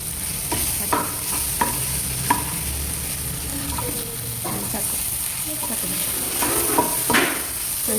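Mushroom pepper dry is stirred and fried with masala in a pan, giving a steady hiss with repeated scraping and tapping of a spatula at an uneven rhythm. A high constant whine runs underneath.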